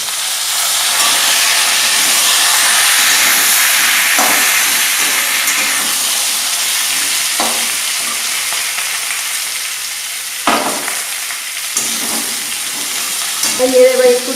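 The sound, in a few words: vegetables frying in tempered oil for Bengali shukto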